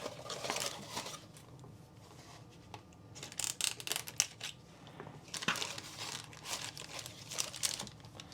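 Packing tape being pulled and torn off a cardboard box while unboxing a Tomica Limited Vintage carport diorama, heard as crinkly ripping and crackling bursts that come in irregular waves, close and moderately loud, with no talking.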